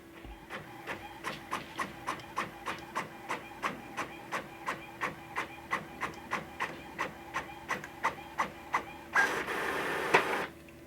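An Epson WF-7710 inkjet printer clicks in a steady, even rhythm for several seconds, then ends with a brief rushing whir as the paper feeds out.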